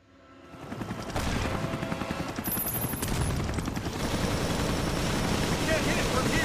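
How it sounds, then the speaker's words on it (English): A Gatling gun in Resident Evil Revelations fires in a sustained loud mechanical burst, rapid rattling shots layered over a rumbling engine-like drone and game noise. "Oh, Gatling gun, baby."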